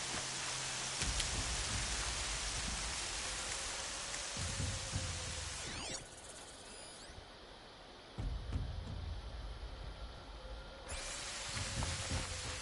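Steady rain pouring down in the video game Horizon Zero Dawn, a continuous broadband hiss that holds for the whole stretch, dipping briefly midway before returning at full strength, with no talking.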